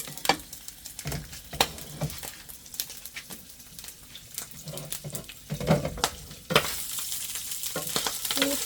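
Food frying in a pan as it is turned over, a steady close sizzle broken by scraping and clattering of a utensil, with a louder burst of hissing toward the end.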